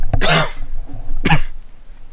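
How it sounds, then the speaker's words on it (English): Two loud, close coughs, about a second apart, with quiet in between. "I'm gonna cough again."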